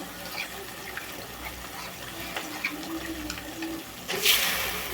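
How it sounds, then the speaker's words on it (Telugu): Cornflour slurry is poured into a pan of red chilli sauce and soy sauce for a meal maker manchurian, giving a steady, close liquid pour with a brief splashy swell near the end. "కార్న్ఫ్లోర్ వాటర్ని అయితే వేసేసుకోవాలండి ఒకసారి కలుపుకొని"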